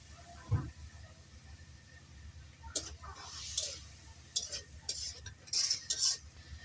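Spice paste with a little water is sautéed in a kadai for pangas fish bhuna, heard as soft, intermittent stirring scrapes and light clinks of a spatula against the pan at low volume, without talk.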